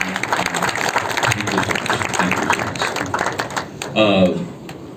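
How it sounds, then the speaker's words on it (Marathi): Applause from an audience at a Marathi film music launch event, steady clapping mixed with voices, ending with a louder burst of speech. "त्यांच्यासाठी आपण खूप खूप जोरदार टाळ्या वाजवूया"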